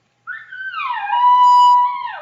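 A human voice imitates a weak, wimpy elk bugle: one thin whistled tone that slides up, then drops and holds a long, steady high note before falling off, heard alone and fairly loud for about two seconds.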